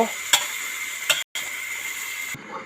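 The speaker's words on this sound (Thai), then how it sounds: "แล้วเราก็คลุกเคล้าให้เข้ากัน พอให้ใบกะเพราได้ออกกลิ่นนิดหน่อย" Holy basil leaves stir-fried in a pan for a basil dish with pickled bamboo shoots: a steady close sizzle broken by two sharp spatula clacks and a short cut-out near the end.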